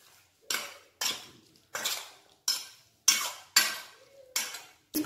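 Chicken being mixed with ginger garlic paste and tomatoes in a bowl, eight or so sharp clinks and scrapes of a utensil against the dish at a regular pace, close and fairly quiet with silence between strokes.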